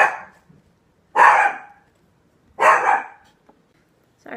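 A dog barks indoors in short, loud bursts, three sharp barks spaced more than a second apart, with quiet pauses between.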